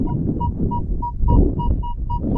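Repeated short, clear beeps of a metal detector sweeping over a buried silver coin in plowed ground, about nine evenly spaced tones over a steady low rumble of wind or handling noise.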